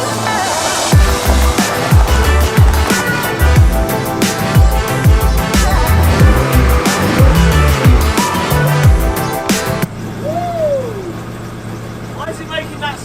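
A poorly running Renault Clio 197 hot hatch, just started, idles loud and close. Its engine note is rough and uneven, with irregular lumpy pulses and a faint whine near the end.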